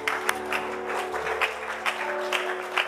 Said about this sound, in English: Would you clap your hands one time in worship to Jesus?